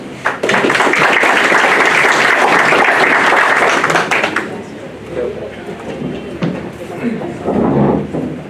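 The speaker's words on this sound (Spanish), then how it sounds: "nos despedimos de ella con un fuerte aplauso" An audience at a Callao Superior Court event applauds loudly for about four seconds, then the clapping stops and an announcer's voice carries on over room noise.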